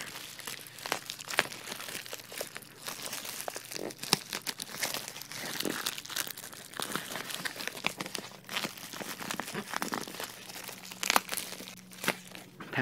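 Plastic packaging of an Incase Snap Case for an iPhone 4 being opened, with steady close crinkling, crackling and tearing throughout and no talking.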